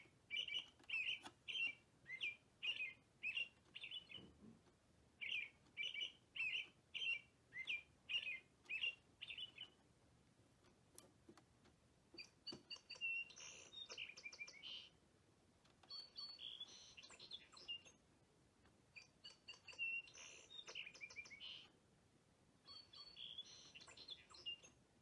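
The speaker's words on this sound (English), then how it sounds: "we'll cycle through each of the bird melodies by pressing the red button" An Audubon Society quartz bird clock plays recorded bird songs one after another, clear repeated chirping phrases separated by brief clicks and pauses, small and somewhat tinny up close.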